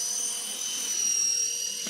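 An RC Era C189 remote-control helicopter flies nearby with a steady high-pitched whine of its motor and rotor, holding an even level throughout with no voices.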